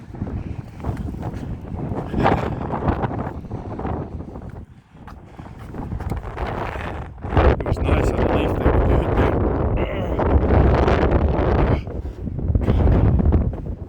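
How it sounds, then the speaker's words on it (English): Strong wind buffets the microphone in heavy, continuous gusts on a road between Watrous and Clayton, New Mexico, with a person speaking briefly through the roar. "It's so thick and windy."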